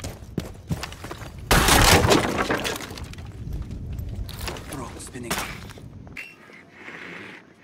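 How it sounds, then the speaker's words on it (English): Windows breaking in Rainbow Six Siege: after a few sharp cracks, a loud burst of shattering glass and gunfire-like impacts erupts, with further crashes and cracks trailing off before the noise drops away, voices heard along the way. "I'll go break the windows"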